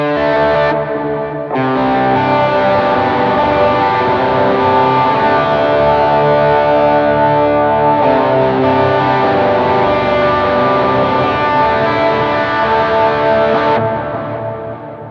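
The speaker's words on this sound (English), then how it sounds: "It's a nice combo when you use that tape delay together with that room reverb." Distorted electric guitar chords ring out through a Jet Pedals Revelation ambient pedal using tape delay and room reverb, loud and sustained with washy repeats trailing after each strum, playing alone.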